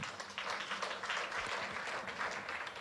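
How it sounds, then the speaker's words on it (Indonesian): A congregation applauds during a church worship service, producing dense, steady clapping from a crowd throughout, heard at a distance and fairly quiet. "Kasih tepuk tangan dulu buat Tuhan."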